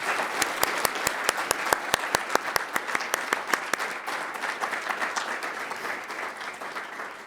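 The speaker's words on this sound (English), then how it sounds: "How about a round of applause for all of the chiefs of mission?" An audience applauds for chiefs of mission at a formal gathering of ambassadors, opening with a few sharp, distinct claps that quickly swell into dense, sustained clapping from a large crowd, then gradually thinning.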